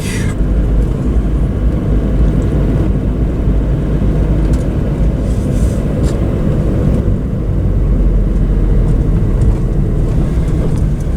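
Steady engine and road rumble from a car driving along a road on a fine day, a continuous low drone that stays loud and even throughout with no talk over it.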